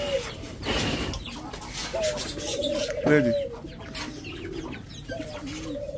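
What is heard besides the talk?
budgies chirping while eating seeds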